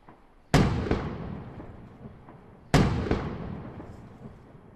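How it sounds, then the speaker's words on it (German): Two booming cannon shots roughly two seconds apart in a pirate ship battle, each a sharp, loud blast trailing off into a long rumbling decay, with no voices. "Danach geht es weiter mit Kanonenschüssen."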